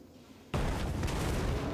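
A sudden, loud blast from an explosion in a video game cuts in out of near quiet, then a dense, rumbling roar holds with crackling bursts of fire.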